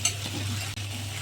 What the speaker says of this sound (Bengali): আদা বাটা দিয়ে দিচ্ছি। একসাথে সব মশলা ভালো করে কষিয়ে নেব।